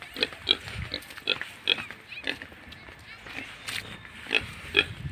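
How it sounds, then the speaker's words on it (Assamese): Pigs let out of their pens on an Assam pig farm in Darrang grunt and squeal in repeated short bursts, fairly close, with scattered background sounds and distant voices. "গাহৰিবোৰ বাহিৰত উলিয়াই দিছে শুনক"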